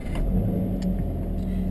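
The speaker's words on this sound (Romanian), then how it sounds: "Vom porni acum motorul." A Subaru BRZ's 2.0-litre boxer engine runs with a close, steady low rumble and a slight swell partway through, heard alone without talk.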